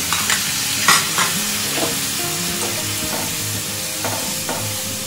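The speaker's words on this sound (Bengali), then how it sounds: "এবার নাড়া" Food frying in a wok, stirred continuously: a steady loud sizzle with repeated scraping strokes of the spatula against the pan, close up and with no voices.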